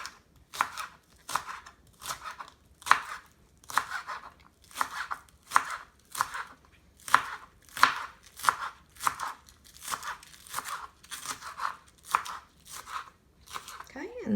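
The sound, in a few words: chopping green onions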